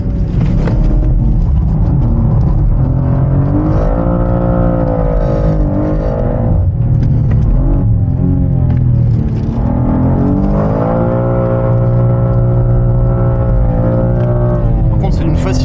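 A BMW M2 with a twin-turbo inline-six engine rising to 460 horsepower revs hard while being driven, rising and falling loudly through the gears with voices over it.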